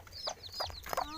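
Chicken clucking in short repeated bursts, close and fairly quiet, with a few quick calls in about a second and no talk over it.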